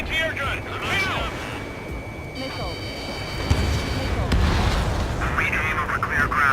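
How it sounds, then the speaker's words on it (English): Anti-air gunfire in the combat flight game Ace Combat 7 thumps and bursts over a roaring jet backdrop, with radio chatter and voices talking through much of it. "Fire anti-air gun."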